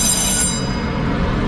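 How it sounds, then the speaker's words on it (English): A train rumbles on Taipei's original train platform, a loud, steady low roar of rolling rail cars with a faint high squeal fading early, no talking. "We're on Taipei's original train platform."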